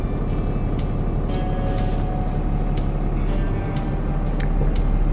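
The diesel engine of an AJK SLK12 skip loader idles with the PTO engaged, a steady low rumble with a few faint clicks and knocks. The sound is continuous and moderately loud, with no talk.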